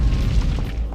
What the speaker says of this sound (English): Michael Bay explosions.